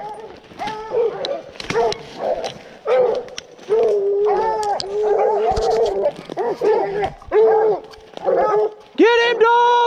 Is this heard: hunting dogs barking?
yes